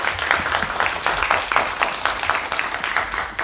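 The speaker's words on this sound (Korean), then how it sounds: "모두 함께 응원하면서 박수 한번 칠까요?" Audience clapping at a press conference for an MBC variety show, continuous fairly loud applause with overlapping hand claps throughout the short stretch.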